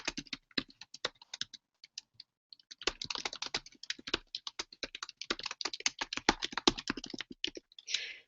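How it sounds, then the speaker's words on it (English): Someone types on a Chromebook keyboard in quiet, soft irregular key clicks, sparse at first and then a denser, faster run of taps close to the microphone, with no talking. "And then Joe goes ahead and keeps typing."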